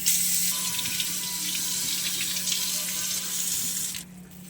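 A kitchen tap runs steadily into a sink while a blackened, burnt plate is washed clean, the close, continuous splashing stopping near the end.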